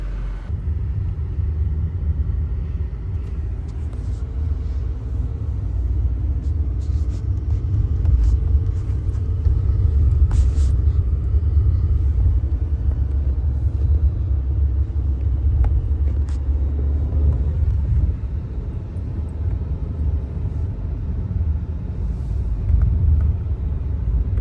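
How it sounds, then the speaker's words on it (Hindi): A car making a U-turn and reversing on a narrow, jammed mountain road toward Kausani, Uttarakhand, during summer holiday traffic; a steady, loud low engine and traffic rumble runs throughout with faint scattered clicks. "यहाँ पे गाड़ी यू टर्न मार रही है, बैक कर रही है।"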